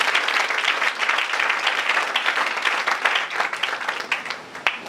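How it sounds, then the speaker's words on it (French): A church congregation applauds loudly and continuously for several seconds, a dense wash of many hands clapping close by that tapers slightly at the end. "Acclamons très fort pour le Seigneur."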